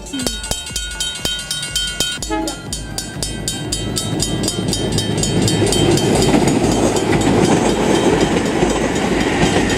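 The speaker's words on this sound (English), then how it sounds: "Ah, train." A train rolls past close by outdoors beside a road, its rumble and rhythmic clickety-clack of wagons swelling and holding loud over roughly ten seconds, with no talk over it.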